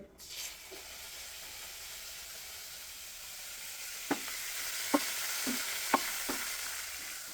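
Curry leaves crackle and sizzle in hot oil as a steady frying hiss fills the background, punctuated by several sharp pops and spits toward the end, with no talking.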